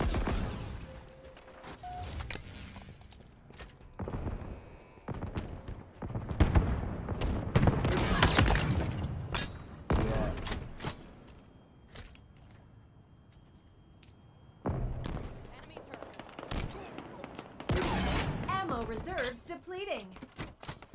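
Gunfire in the Halo video game arrives in loud, dense bursts with sharp rapid shots and heavy impacts, broken by quieter gaps.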